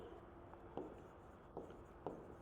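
Marker or chalk writing on a classroom board while a sentence is copied out, a few soft scratchy strokes and taps over quiet room tone, with no talk.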